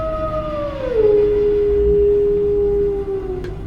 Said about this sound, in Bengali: আর মাঝে মাঝে শোনা যায় শেয়ালের ডাক।